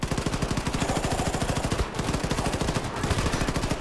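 Rapid automatic gunfire in the first-person shooter Wolfenstein II: The New Colossus, a dense, continuous stream of shots with a brief pause near the middle, loud and close.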